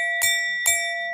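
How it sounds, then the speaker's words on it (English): A small hand bell is rung twice, each strike a bright metallic ding with a shimmering, lingering ring, close and alone with no voices. "Let me ring the bell for you."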